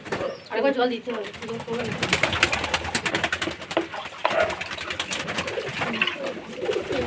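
Pigeons coo in soft, repeated murmurs close by, with fluttering and shuffling as they come down to drink water, while people talk over the flock.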